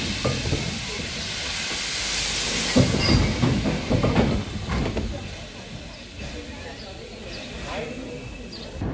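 A narrow-gauge steam train, locomotive 99 331 on Borkum, chuffs and hisses as it pulls out of the station, with clanking rail noise and bursts of steam, moderately close.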